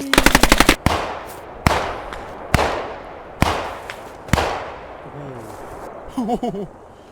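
Gunfire in Post Scriptum: a rapid automatic burst opens, then four loud single rifle shots crack about a second apart, each with a ringing echo tail; a short burst of chatter follows near the end.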